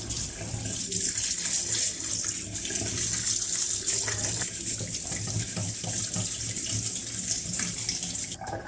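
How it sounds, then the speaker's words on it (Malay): A washing machine filter is rinsed under a running tap, a strong continuous gush of water with shifting splashes as it is moved about, loud and close without speech. "Tak apalah, kita cuci dulu dia punya filter ni."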